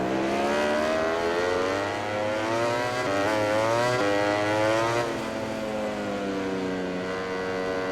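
Ducati GP20 racing motorcycle in MotoGP 20, engine droning loud and steady with rising and falling revs through corners, running alone for several seconds.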